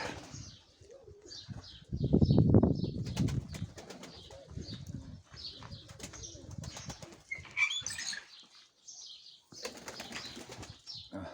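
Pigeons flap their wings in a loud flurry nearby, followed by softer rustling, cooing and faint chirps.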